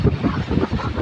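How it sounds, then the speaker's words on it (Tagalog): Strong wind roars across a hillside farm during a heavy rain storm, a steady loud buffeting rumble pressing on the microphone with no pauses. "Hangin ug ulan mag-uban guys."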